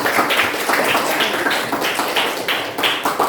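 Students in a classroom give a steady round of applause, dense close clapping from many hands that holds evenly for a few seconds.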